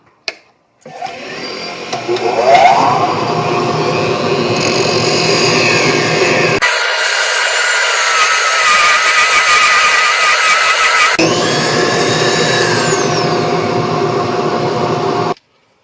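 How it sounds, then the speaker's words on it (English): A Dremel rotary tool works the back end of a segmented fountain pen, its motor spinning up to a high steady whine and holding there close and loud for about fourteen seconds, with pitch shifts as it bites the material. "I'm just going to use a Dremel on that back end"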